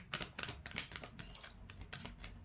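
Tarot cards riffle and flick in quick, crisp bursts during a final shuffle, close and soft with no talking.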